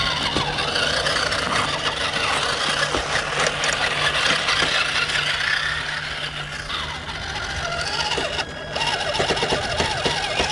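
An HG P417 RC Toyota Hilux high-lift truck, a Tamiya High Lift clone with four-wheel drive, crawls over rough terrain with a continuous whining electric motor and gear drone, steady and fairly loud with a brief dip near the end.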